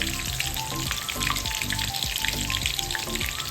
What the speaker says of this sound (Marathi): मिरची चांगली आता तळून घेणार आहोत आपण।